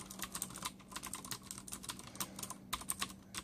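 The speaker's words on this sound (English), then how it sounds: "This is a joy to type, by the way." Rapid, crisp keystrokes on a Ducky Zero keyboard fitted with clicky Cherry MX Blue switches, close and fairly quiet, a steady run of sharp clicks with no voices.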